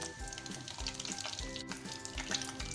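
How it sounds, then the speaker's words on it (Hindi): Whole garam masala spices and white cumin frying briefly in hot oil, a dense close crackling sizzle with faint stirring, steady throughout the short stretch. "कुछ सेकंड के लिए हम इसको फ्राई करेंगे ताकि जितने भी गरम मसाले हैं उनका अच्छा सा फ्लेवर आ जाए"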